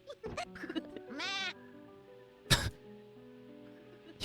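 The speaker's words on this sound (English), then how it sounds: "little baby goats" In the video game Rule of Rose, a high, wavering baby goat bleat rises clearly around the middle, followed by a short harsh cough-like bleat; scattered clicks and tones fill the rest.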